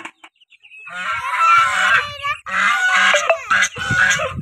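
Chickens calling noisily nearby as they settle to roost in a shed, a continuous run of squawks and honking-like clucks with a few brief breaks.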